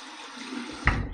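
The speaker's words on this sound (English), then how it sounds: "So here we're gonna run it under some cold water." Cold water runs from a tap over a block of shave soap, a soft, steady splashing stream with a brief louder gush near the end; fairly quiet and close, with no talking.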